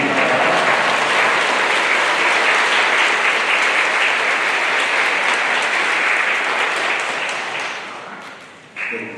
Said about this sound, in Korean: 네, 저한테 박수 주신 거예요?